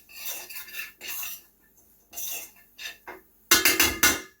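Two teaspoons of thyme stirred into a sautéing dish with a utensil, giving several bursts of scraping and rubbing against the pan, separated by short pauses, ending in a louder burst of clinks and rasps.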